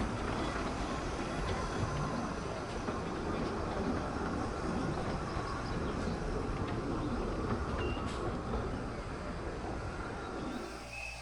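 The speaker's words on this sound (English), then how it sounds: "First, Katie arriving back from Murthwaite" Miniature railway locomotive Katie arriving back from Murthwaite on the Ravenglass and Eskdale Railway, a steady broad rumble and clatter of the train running close by, continuous and fairly loud throughout.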